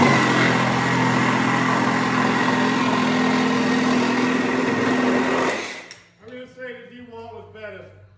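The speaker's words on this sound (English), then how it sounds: "We got the Super Sawzall here." A Flex Super Sawzall reciprocating saw cuts wood clamped in a vise, a loud steady buzzing motor run for about five and a half seconds before stopping abruptly, followed by someone talking.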